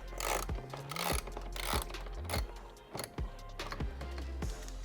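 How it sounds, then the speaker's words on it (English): A hand ratchet breaking loose a 13mm bolt on a Tesla Cybertruck, giving a series of sharp, close clicking strokes in an irregular rhythm with short rubbing pauses between them, fairly quiet and without talk. "Popping off the panel reveals our 13mm bolt, and we'll use our ratchet to break it loose."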